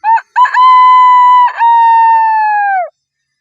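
A voice imitates a rooster crowing: two short clipped bursts, then a loud, long, sustained crow with a brief break in the middle, heard close and alone.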